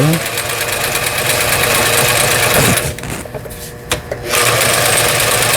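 A Brother GA15 sewing machine, just repaired, sews a straight stitch with a loud, steady rapid mechanical chatter that pauses briefly near the middle before resuming.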